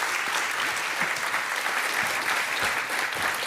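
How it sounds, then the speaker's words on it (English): A large audience at a youth summit in Brussels breaks into steady, sustained applause, a dense wash of many hands clapping at moderate distance with no voices standing out. "Please give a round of applause."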